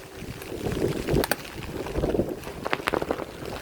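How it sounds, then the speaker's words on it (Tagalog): Strong wind on Manila Bay buffets the microphone in rough low gusts, with scattered knocks and splashes of water against a boat. "malakas na yung hangin"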